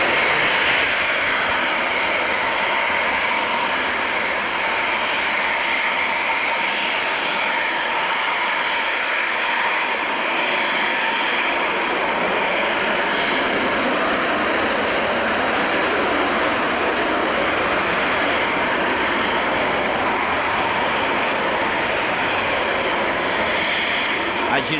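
Powerful military jet taking off without afterburners, a loud sustained broadband roar with steady whine that holds strong throughout; a voice speaks faintly underneath.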